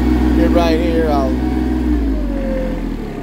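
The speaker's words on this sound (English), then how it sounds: "turn the engine down so you all can hear me." A Branson 2505H compact tractor's diesel engine runs steadily close by, a low constant drone with a brief rise in pitch, while someone talks over it.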